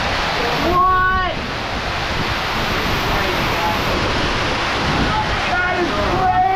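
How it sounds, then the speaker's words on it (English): A big waterfall roars inside a cave in a forest. The loud, dense rush is continuous and close, and brief spoken voices are partly buried under it. "that's a big waterfall, isn't it?"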